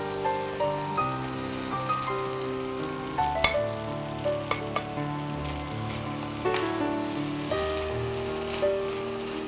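Chicken sausage fried rice being tossed in a hot pan, with a continuous sizzle and crackle broken by sharp scraping and clinking of a spatula against metal, close and fairly loud.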